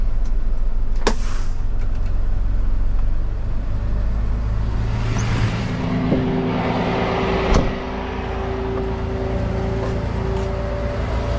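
Tow truck with flatbed backing up into position, a steady low engine rumble and drone with a faint tonal whine, close and continuous with no talk.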